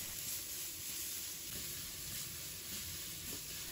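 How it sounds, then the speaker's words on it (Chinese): Celery, carrot and red chili stir-frying in a hot wok, a steady dense sizzle and hiss throughout with faint scrapes of stirring, close and continuous, no talking. "再把芹菜、胡萝卜、红辣椒倒入锅中，继续翻炒，炒出香味。"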